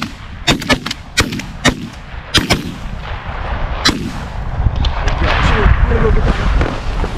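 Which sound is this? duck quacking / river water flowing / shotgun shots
shotgun shots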